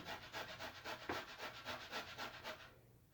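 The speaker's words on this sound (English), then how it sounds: "this is what they call a cheese grater, but I use it for my potatoes, my carrots, whatever I want to grate" Potatoes grated on a metal cheese grater for homemade hash browns, a faint, steady rhythm of about a dozen rasping strokes close by that stops near the end.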